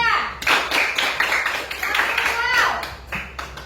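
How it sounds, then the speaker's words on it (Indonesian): A group claps hands in encouragement for a classroom team, a scattered burst of clapping close by that runs under ongoing talk from a teacher and students. "Kasih semangat dulu tepuk tangan untuk kelompok 2."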